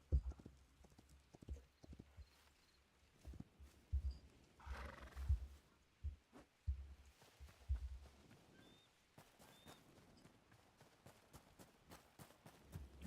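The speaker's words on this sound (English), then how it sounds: "Put this horse back." Horse hooves clip-clopping at a steady walking pace in the Hytale video game, with a whinny partway through, all fairly quiet and with no talking.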